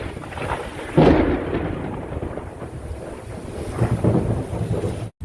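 Thunder from a lightning storm overhead, a deep rumbling roll that swells sharply, fades, then builds again, with wind buffeting the microphone throughout.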